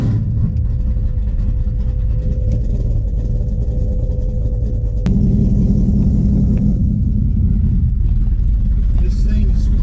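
A 1969 Dodge Dart with a 520 cubic-inch engine rumbles steadily with a deep, loud idle, then its note thickens partway through as it pulls away, while people talk over it.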